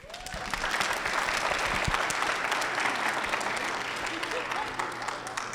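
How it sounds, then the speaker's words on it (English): Audience applause at a Denver startup founder event, a sustained wash of clapping that swells quickly and holds steady for several seconds before easing slightly, fairly close and filling the room. "So let's give a big round of applause."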